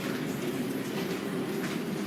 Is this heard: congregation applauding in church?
no